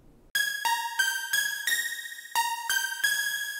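A bright saw-wave oscillator from the Serum synth plays a steady sequence of about eight sharp-edged notes, clear and up front with nothing else underneath after a brief quiet start.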